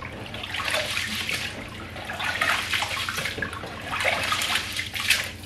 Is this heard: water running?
yes